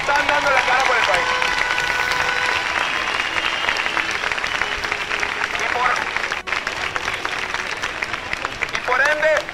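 A crowd at a student gathering applauds the university student federation, loud dense clapping that carries on for several seconds with voices and cheers mixed in.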